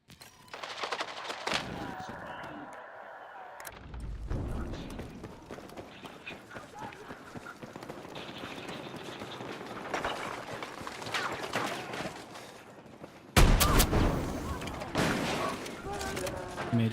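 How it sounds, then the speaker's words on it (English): Shotgun gunfire in a video game, sharp loud blasts standing out among rapid gunshots and running footsteps, with a voice talking over much of the action. "That's a shotgun."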